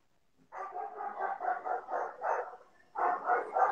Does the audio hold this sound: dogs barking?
yes